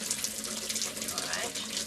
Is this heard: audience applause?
no